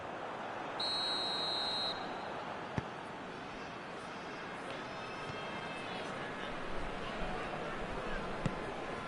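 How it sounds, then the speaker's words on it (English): A referee's whistle blown for offside during a football match, one short high blast about a second long over a distant stadium crowd murmur, with commentary heard over it. "the whistle's gone, presumably for offside"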